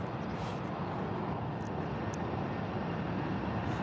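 An EasyJet airliner approaches Birmingham airport, its engines a broad, constant roar with no break, loud and continuous throughout.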